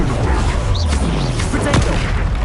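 In the Hogwarts Legacy video game, a Confringo blasting spell sets off a loud, close explosive boom with crashing impacts and a rumbling tail.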